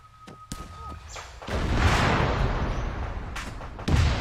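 A rocket launches in a shooter video game with a sharp onset, then a loud, sustained roaring rush and a final thump as it hits, heard up close amid scattered game clatter.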